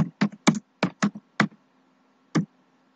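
Keys tapped on a computer keyboard, a quick cluster of about six crisp clicks, a pause, then one more isolated keystroke, close and fairly quiet.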